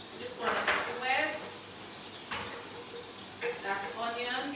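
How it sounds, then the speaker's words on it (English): Onions sizzle in a pan for chow mein, a soft continuous frying hiss under a person talking. "We have some onions. You hear that sizzle?"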